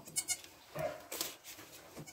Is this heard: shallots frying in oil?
no